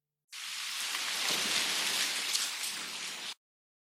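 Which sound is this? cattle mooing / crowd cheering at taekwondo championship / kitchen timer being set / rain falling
rain falling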